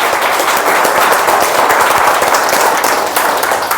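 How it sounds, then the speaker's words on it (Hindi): Loud, dense applause from a large audience at a workplace safety talk, a steady wall of clapping that holds for several seconds with no voices over it. "जोरदार ताली अगर अच्छा लगा"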